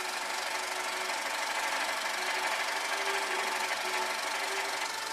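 An internal combustion engine runs steadily with a dense, even clatter and knocking, loud and unbroken throughout with no voices.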